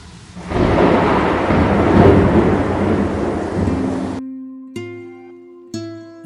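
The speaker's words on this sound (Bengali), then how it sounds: "বৃষ্টি আসবে আসবে করছে। মেঘটা ক্রমশ ভারী হয়ে এসেছে। ঝড় উঠেছে।" Heavy rumbling thunder over a rush of rain for about four seconds, then an abrupt switch to a few sparse musical notes.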